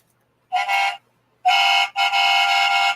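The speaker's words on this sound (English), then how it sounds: "I can honk the horn." An Agora Models FDNY Ladder 9 scale model fire truck sounds its electronic horn in three honks: one short blast, a pause, then another short blast followed closely by a longer held one, loud and clear against silence.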